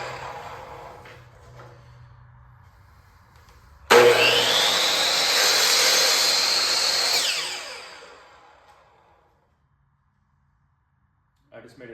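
A power saw cuts through wooden quarter round trim while it is being installed, starting abruptly with a loud, steady whine that runs for about four seconds, then winds down and fades to silence. Quiet talk comes before the cut.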